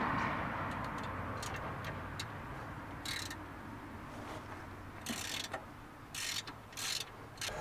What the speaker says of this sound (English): You need a 3/8 drive ratchet to remove these plugs.